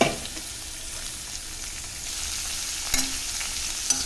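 Radish being sautéed in a pan with a little asafoetida, a steady low sizzle with continuous stirring and a couple of sharper utensil knocks toward the end, with no voices.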